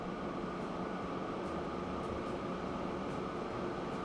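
Long electric grain train in the Transport Fever video game, a steady low hum and rolling rumble that holds even and fairly quiet throughout, with no voices over it.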